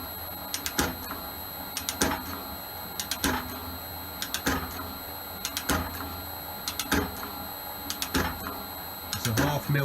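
An Elliott 10M metal shaper cutting on auto feed makes a steady rhythm of sharp, bright strokes, roughly one every second, each stroke a clattering clank over a constant machine hum.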